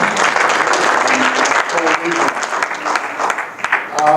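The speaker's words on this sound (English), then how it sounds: "So a round of applause to everybody for coming." An audience at an evening talk on the regional commercial real estate market breaks into a full round of applause, dense steady clapping mixed with some voices and murmurs throughout.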